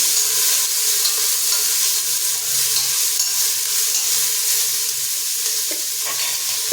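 Vegetable biryani with coriander and mint is stirred in ghee in a cookware pot, giving a continuous sizzling hiss with soft scraping stir sounds throughout.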